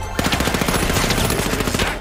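Shotgun fire in the video game The Finals comes as a rapid, dense string of loud, close blasts lasting about two seconds, with no talking.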